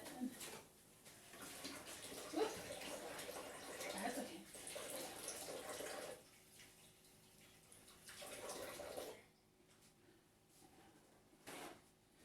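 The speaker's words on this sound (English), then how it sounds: "Then I'm going to go wash my hands from the meat." Tap water runs in a home kitchen as hands are washed after handling raw steak, a close, steady hiss that comes in several bursts with short pauses and brief quiet gaps.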